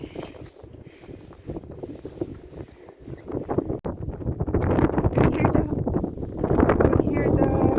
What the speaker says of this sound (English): You hear the wind? It's blowing.